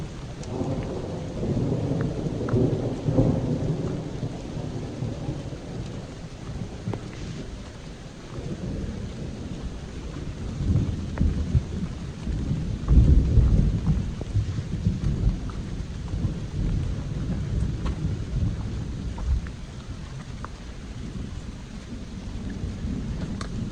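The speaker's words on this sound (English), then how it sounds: "some wicked thunder out here" A thunderstorm on the Appalachian Trail, with heavy rain pouring steadily and deep thunder rumbling and swelling midway, loud and close, with no voices.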